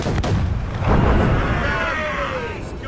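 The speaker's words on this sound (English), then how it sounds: "We should fire our mortars, Captain!" Ship mortars firing in the naval battle of Assassin's Creed Rogue, a heavy deep boom with a rumbling tail and a second blast about a second later, against battle ambience and shouting crew.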